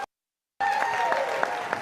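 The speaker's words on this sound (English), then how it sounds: "Huge rebel round of applause" Audience applause at an annual alumni awards ceremony, a dense steady wash of clapping that starts abruptly after a moment of silence and carries on loud and close.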